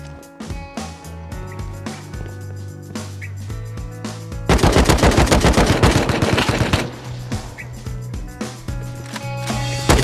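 Rapid automatic gunfire rattles through a close firefight in the survival video game Rust, with scattered single shots leading into a dense, loud burst of fire, then more sporadic shooting.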